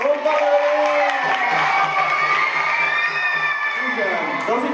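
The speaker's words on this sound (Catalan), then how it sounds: "Un aplaudiment!" An audience with many children at a local school event cheers and shouts, with excited high voices and whoops blending into a lively crowd roar that holds steady for several seconds.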